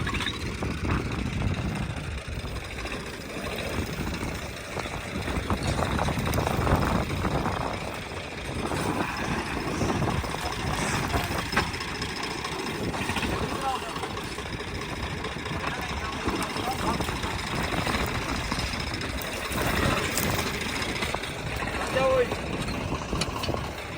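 A Swaraj 744 tractor engine runs steadily with a straw-making machine attached behind it, producing a continuous broadband rumble and clatter for the whole stretch, with some voices faintly in the background.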